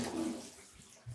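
Water runs from a bathroom tap in an apartment, a soft, steady hiss of flow that stays faint and fairly close throughout, with a slight low thump near the end.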